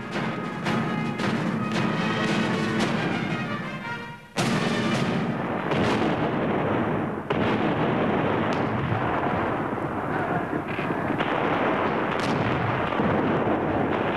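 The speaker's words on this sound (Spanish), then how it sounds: "el estruendo de los mosquetes y cañonazos" Gunpowder fire from cannons and muskets: dense, loud booming blasts and crackling reports overlap in a continuous, rumbling barrage with a brief drop before heavy firing resumes.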